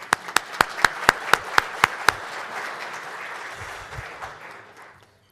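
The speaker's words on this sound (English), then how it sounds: "Let's have a round of applause for all of them." At a Rotary club meeting, one person claps a few sharp, evenly spaced nearby claps while a smaller room applauds behind, the whole burst fading away within about five seconds.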